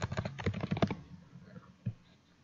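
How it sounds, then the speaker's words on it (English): Quick bursts of keystrokes on a computer keyboard while entering quote and project cost data, close and clear for about a second, then quiet with one isolated click near the end. "I'm just typing all this information"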